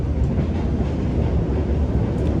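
Senja Utama Solo passenger train rolling along rails, a steady, loud rumble with a faint rhythmic clatter of wheels throughout, with no voices.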